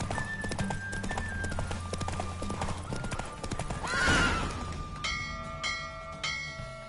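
Horse hooves gallop in a rapid clip-clop as a race ends in The Witcher 3, with a horse whinnying loudly partway through and bright bell-like chimes ringing out near the end.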